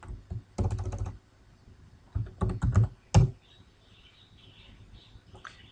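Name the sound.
typing switch commands on a computer keyboard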